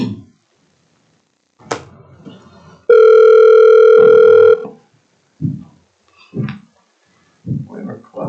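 At a board meeting, a telephone dial tone hums steadily for about two seconds. Brief knocks and short bursts of talk come before and after it.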